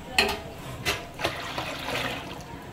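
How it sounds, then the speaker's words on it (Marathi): Water poured into a bowl of spicy pani puri water made with hot green chillies; a few splashy pours and trickles, fairly close, with no talking. "तर मी ह्याच्यामध्ये आता पाणी घालून घेते."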